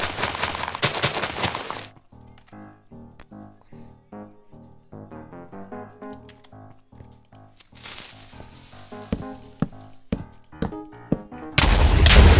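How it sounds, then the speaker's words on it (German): Explosions go off in the Minecraft Skywars video game as the middle island is blown up: a dense run of sharp blasts and crackling impacts, with a loud burst near the start and another near the end. "Na dann wird es Zeit, um die Mitte zu sprengen."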